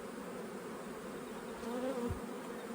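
Honeybees buzzing over an open hive brood nest, a steady dense drone from many insects, close and continuous with a slight swell partway through, no voices.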